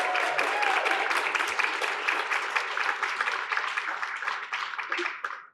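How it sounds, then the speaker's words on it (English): An audience at a university visiting artists and critics talk claps for a speaker, a dense, steady burst of applause that holds for several seconds and then trails off at the end. "So please give a round of applause to Kevin!"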